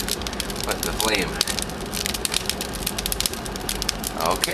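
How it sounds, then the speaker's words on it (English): A wood fire in a home heating stove roars and crackles after being lit, with a steady broadband rush broken by sharp pops and snaps, heard close with some faint voice-like tones over it. "that doesn't take long at all until it's roaring with the flame"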